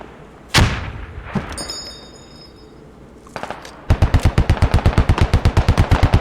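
A grenade launcher in a shooter game fires with a sharp, loud thump, followed by a second softer pop and distant blasts, then a rapid, evenly spaced machine-gun-like burst of reports close up.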